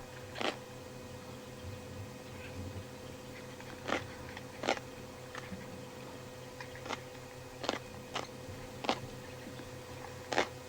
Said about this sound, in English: Luckily, hyenas have got the jaws and the teeth to really crunch through anything.